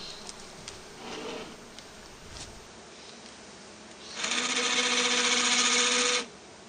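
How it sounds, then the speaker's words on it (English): Honey bees buzzing around an opened hive during a mid-winter check, a loud steady droning buzz that swells up close for a couple of seconds after quieter, scattered buzzing. "Can you give them a bit of a smoke when you get a minute, because they're getting stirred up?"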